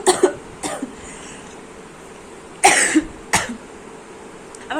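A sick child coughs in a few sharp, close bursts spread across the stretch, with two louder coughs in the middle and quieter gaps between.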